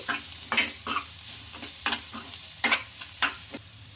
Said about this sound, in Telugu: ఈ మసాలాలన్నీ బాగా ఫ్రై చేసుకోవాలి